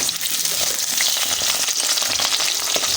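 Potatoes fry Bengali style in a pan, cooked for a handi chicken dish, giving a close, steady, dense sizzle with no speech over it.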